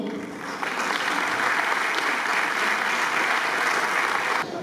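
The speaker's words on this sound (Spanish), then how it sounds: "Un fort aplaudiment." Audience at a closing festival of a summer school in Alcàsser applauds as second-grade children come onto the stage: a steady, full wash of clapping from many hands, sustained for several seconds before cutting off.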